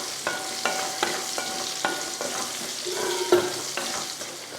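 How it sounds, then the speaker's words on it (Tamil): Raw potato pieces fry in oil in a pan, with a steady close sizzle and regular scraping knocks from a stirring spoon about every half second, heard alone without speech. "உருளைக்கிழங்கையும் 2 நிமிஷம் வதக்கியாச்சு."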